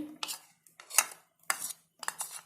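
A metal cooking pot being picked up and set down as ghee goes in for frying pakoras, with four close, clattering clinks of metal on metal and short pauses between them.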